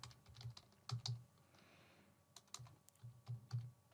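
Typing on a computer keyboard while filling in a web form field, heard as close, crisp key clicks in short uneven bursts with brief pauses between them.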